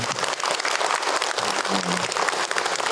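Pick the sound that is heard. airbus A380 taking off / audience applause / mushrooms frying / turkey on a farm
audience applause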